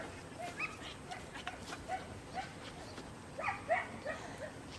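A small dog whimpers and gives soft yips, faint and somewhat distant, over a steady background hiss, during a herding training session.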